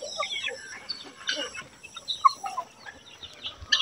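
Hens cluck on a small farm in short, scattered calls and soft clucks, fairly close, with no one talking.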